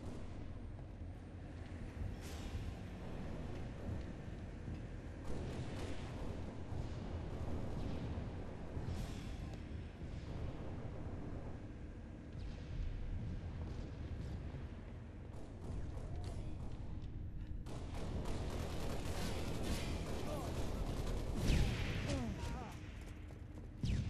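Grenade explosions in Halo MCC multiplayer land one after another as heavy, booming blasts mixed with gunfire over a rumbling battle bed, while a player talks over the action.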